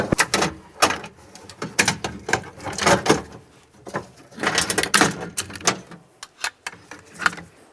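A rear window regulator is worked loose and pulled out of a 2006-10 Ford Explorer door, giving a series of close scraping, clunking and rattling knocks in irregular bursts with short pauses between them.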